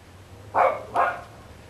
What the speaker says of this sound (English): Neighbors don't like it when the dogs bark in the hood